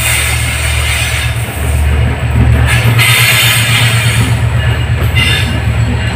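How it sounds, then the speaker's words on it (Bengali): Train rumbling into a station, with a steady low hum and continuous rail noise at close range, no talking. "আলো করে ট্রেন আসছে দেখছেন"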